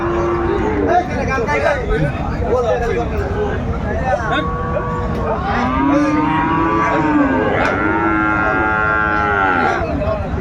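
A Sahiwal bull at a cattle market in Dinajpur lets out long, loud moos, repeated over a steady crowd hubbub with people talking nearby.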